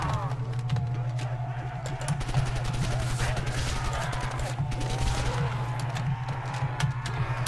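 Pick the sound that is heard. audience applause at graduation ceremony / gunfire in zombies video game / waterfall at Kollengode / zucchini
gunfire in zombies video game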